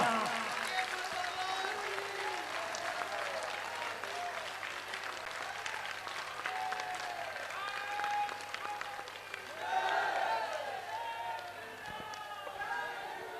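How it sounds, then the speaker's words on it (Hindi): A large audience at a religious discourse event claps continuously, a dense sustained applause with a swell toward the end, mixed with crowd noise. "चाहिए तालियां"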